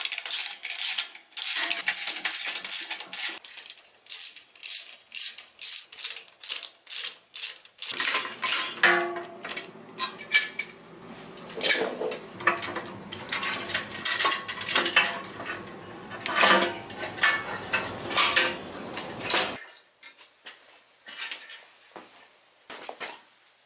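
Foot pegs come off a Yamaha TTR110 pit bike in a run of close metallic clanks, scrapes and rattles of tools and hardware, some sharp and ringing, continuing irregularly for about twenty seconds before falling quiet.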